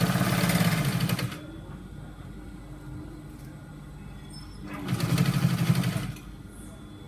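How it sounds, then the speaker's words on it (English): A sewing machine stitches a trouser seam in two quick motor bursts, at the start and again near the end, with a quiet stretch between them where a voice talks over the room. "So you're going to sew it straight down."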